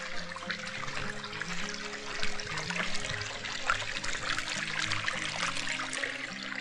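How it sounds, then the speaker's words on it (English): Meltwater runs and trickles on a snowy valley homestead in the Pacific Northwest, a continuous close gurgling flow with a low mechanical drone beneath, no speech. "the water's running down"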